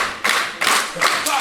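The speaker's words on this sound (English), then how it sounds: "Clap all you want." A wrestling crowd claps in steady rhythmic bursts about every 0.4 seconds, loud and close, with no talking over it.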